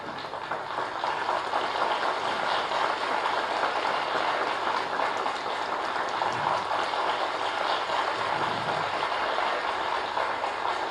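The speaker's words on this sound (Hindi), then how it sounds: "आप सबकी शुभकामना रूपी जोरदार तालियों के साथ" Sustained, dense applause from an audience at the launch of the e-Kavach app during a Japanese encephalitis vaccination campaign event in Uttar Pradesh, steady and fairly loud for the whole stretch.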